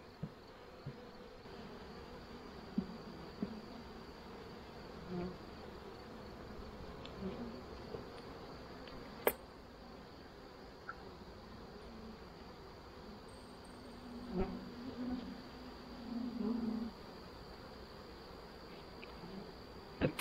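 Honeybees drone steadily around an open hive during a late-summer inspection of newly split colonies, a continuous close buzz with brief louder swells as individual bees pass near, and no talk over it.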